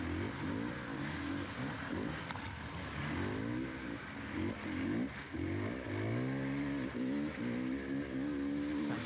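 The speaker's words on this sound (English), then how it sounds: "You can hear how little grip there is when you hear the revs going up like that." A hard-enduro dirt bike engine revs high and holds near and loud while its rear wheel spins without grip on a rough climb, pitch rising and wavering repeatedly.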